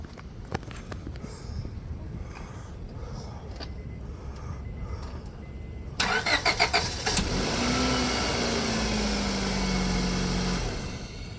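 A Honda Civic with a D17 engine cranks and catches, then settles into a steady, loud idle close by, after quieter rustling and handling noises.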